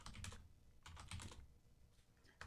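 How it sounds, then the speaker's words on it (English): Computer keyboard typing during a tabletop Dungeons & Dragons session, heard as irregular clustered bursts of clicking keystrokes with short pauses between, moderately loud and close, with no talk over it. "Oh, the typing."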